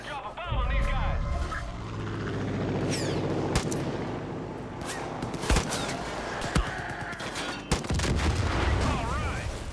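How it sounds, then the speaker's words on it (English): Bombs dropped from a plane in Far Cry 5 burst amid continuous rumbling engine noise and scattered gunfire, with loud booming impacts and sharp cracks layered together throughout. "I'm gonna drop a bomb on these guys"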